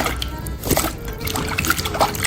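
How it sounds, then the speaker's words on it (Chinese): Finger-thick potato strips drop into a basin of cold water, giving brief, soft splashes and trickles close by within a couple of seconds. "切好以后放在冷水盆里面"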